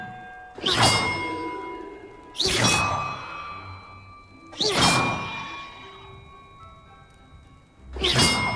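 Four separate bell strikes from a puzzle in the Hogwarts Legacy video game, spaced roughly two seconds apart, each a sharp metallic ding with a whooshing attack and a sustained ringing tail that fades before the next.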